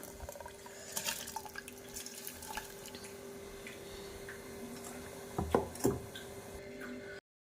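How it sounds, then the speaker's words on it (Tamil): Water boiling hard in a cooking pot, waiting for washed dal, gives a steady bubbling, hissing wash with scattered pops and a couple of louder splashy bursts near the end, fairly close, with no talking. "இப்போ பார்த்தீங்கன்னா தண்ணி நல்லா கொதிக்குது"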